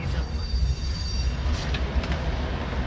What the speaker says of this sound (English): The noise of the train, for example, bother you?